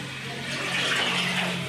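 Water pours steadily from cups into a cooking pot for biryani, a continuous splashing rush that swells slightly and holds at moderate loudness, with no talking.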